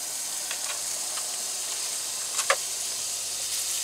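Butter sizzling and frying in a pan with bangers, cooked inside a van, a steady crackling hiss throughout with a couple of sharper pops near the middle.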